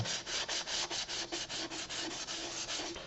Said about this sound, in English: Look what happens when I start sanding.